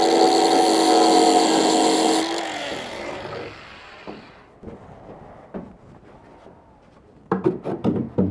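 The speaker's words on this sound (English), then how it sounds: "I need to get the grinder and make some adjustments here" A power grinder whines loudly as it shaves a wooden bilge board, then winds down and stops, followed by faint scraping and a few sharp knocks and taps of wood being handled.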